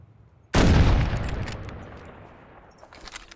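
A single loud rifle shot fired at an animal on a Kamchatka hunting expedition in a hunting game, a sharp close blast that rolls off into a long fading echo, with no speech.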